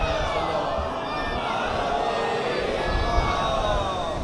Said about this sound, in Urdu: ایک اس سے بلند صلوات جاگتی ہوئی پڑھیں محمد و آل محمد کی ذات پہ